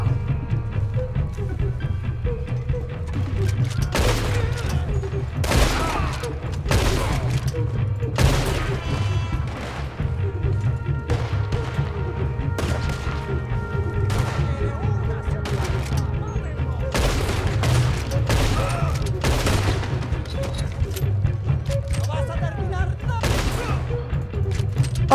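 Repeated gunfire in the Western video game Red Dead Redemption 2, sharp shots cracking out in irregular clusters over a steady low rumble of game ambience, loud and sustained throughout.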